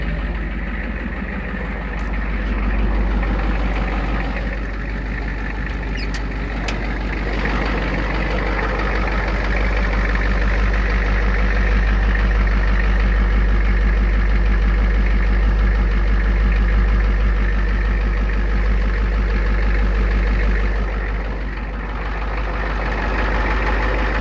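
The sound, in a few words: lifted pickup truck engine idling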